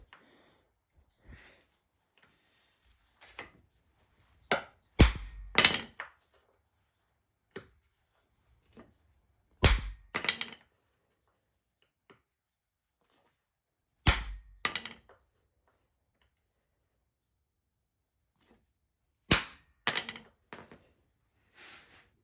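Hammer blows on a ball pressed into a silver coin to push out its flange, sharp metallic taps arriving in scattered clusters with long quiet gaps between them.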